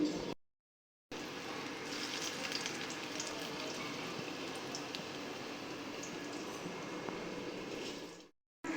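Coriander kothmir vadi deep-fries in oil over a low flame, giving a steady, close, continuous sizzle and bubbling that holds evenly throughout with a brief gap near the start.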